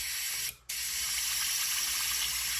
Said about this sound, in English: you can kind of hear it bubbling in there